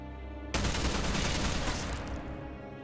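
Gunfire in a Minecraft roleplay game starts abruptly after a short pause and continues as a dense, sustained rattling burst that slowly thins out, with no talking.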